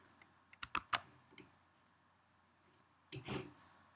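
A computer keyboard gets a quick cluster of sharp key presses for a shortcut, then a softer pair of clicks a few seconds later, all faint and close in a quiet room.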